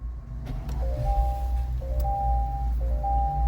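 A 2025 Acura MDX A-Spec starts with its push start button, sounding a series of clear electronic chimes, rising tonal dings repeated in steps, over a steady low idle hum inside the cabin.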